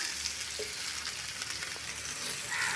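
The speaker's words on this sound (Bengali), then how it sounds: "পটলগুলো আমার ভাজা হয়ে গেছে" Pointed gourd (potol) pieces sizzle and crackle steadily in hot mustard oil in a pan, a close, soft frying hiss with faint stirring clicks and no talk.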